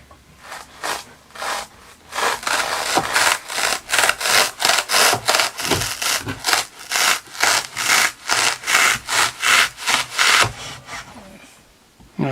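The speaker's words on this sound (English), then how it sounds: "And then he's going to cut it with the hacksaw, holding the one end." A hacksaw cuts through a block braced against a backstop, one end held by hand. Steady back-and-forth strokes rasp in a fast, even rhythm, close and loud, with no talking.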